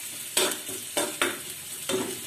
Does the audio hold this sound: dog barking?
no